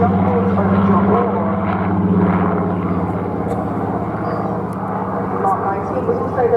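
An RAF Spitfire Mark 19 at a seaside airshow drones steadily overhead, its broad propeller-engine roar holding loud and constant throughout while a commentator talks over it.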